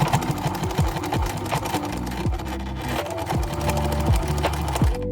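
A sewing machine runs steadily in zigzag stitch, attaching elastic to a summer top. The motor whirs close and loud without a break, with rhythmic mechanical knocking throughout and no talking.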